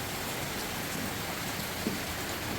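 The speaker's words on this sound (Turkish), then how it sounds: "Yağmur felaket." Heavy rain falls steadily, a dense even hiss of drops hitting surfaces, close and constant with no voices.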